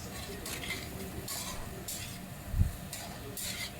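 Potato and pointed gourd with cumin and coriander spice paste sizzle quietly in a pan while a spoon stirs in repeated scraping strokes, with one soft knock partway through.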